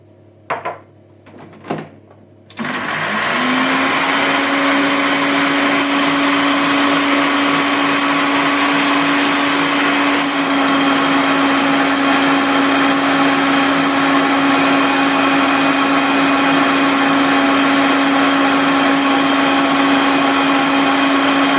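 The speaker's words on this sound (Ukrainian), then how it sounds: "Тепер вже починаємо е, збивати білок" Egg whites for marshmallow being whipped with an electric mixer: a few handling clunks, then a loud, even motor whine that runs steadily to the end with no speech.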